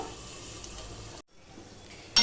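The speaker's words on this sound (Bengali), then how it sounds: "ফোড়নের সাথে আমি আলুটা ভালো করে ভেজে নেবো" Steady broadband sizzling of potatoes frying in a pan with spices, with a short quiet gap and a brief stir or clatter near the end.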